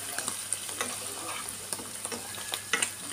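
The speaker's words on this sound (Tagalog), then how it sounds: "pati haluin na lang natin" Tofu stirred in a frying pan with oyster sauce and crushed pepper, steady sizzling broken by light scraping and clicking of the utensil against the pan, close and moderately loud with no talking.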